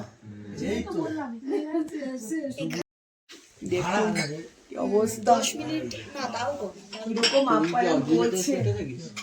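Cups and plates clink and knock as new dishware is set out on a mat, the sounds scattered under near-constant conversation between people in the room.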